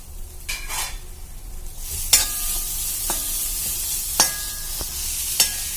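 Grated coconut stirred and heated in a pan for a sesame and flattened rice laddu, with a soft steady sizzle and sharp scraping and clinking of a spoon against the pan every second or so, close by with no talk.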